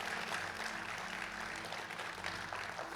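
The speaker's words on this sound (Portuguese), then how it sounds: "Você pode aplaudir o Senhor Jesus" A church congregation applauding, sustained dense clapping from a large crowd filling the space evenly throughout, with no talking over it.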